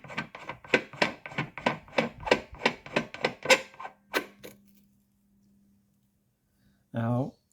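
A rough disc is fitted onto a faceting master lap and tightened down, giving a quick run of rhythmic rasping, ratcheting strokes followed by a few sharp taps and a silence, then a voice briefly at the end.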